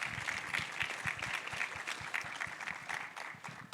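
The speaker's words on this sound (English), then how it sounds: "Clap for that, please." Audience applause at a community panel event on trades, finance and youth, a steady spread of clapping from a seated crowd lasting the whole stretch at moderate, even loudness.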